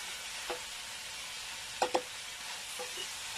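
Onions fry in a hot pot with a soft, faint, steady sizzle, broken by a few light scrapes and taps of stirring, close by and with no talking.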